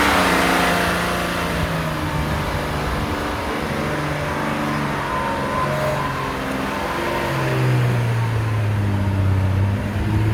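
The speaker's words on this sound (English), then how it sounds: "Start her up. Give her some gas." A 2006 Chevy Trailblazer engine revs repeatedly during a carbon-cleaning treatment, pitch rising and falling in several close, loud pulls with no talk.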